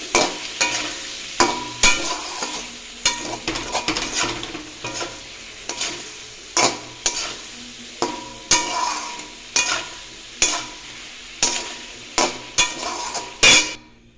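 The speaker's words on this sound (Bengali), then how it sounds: "ছোলাগুলো ঢেলে দিলাম, দিয়ে কষিয়ে নেব।" Kabuli chickpeas sauté in spiced oil with a constant sizzle, punctuated by regular, sharp spatula scrapes and knocks against the pan about once a second, with no talking.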